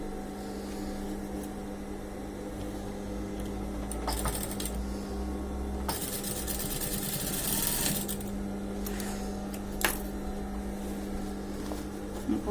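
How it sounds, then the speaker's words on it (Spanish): Sewing machine stitching a trouser waistband: a steady, close mechanical whir with a rapid needle rhythm running throughout, briefly interrupted by louder clattering bursts and small clicks as the fabric is repositioned; no talk. "Y voy a coser bien finito"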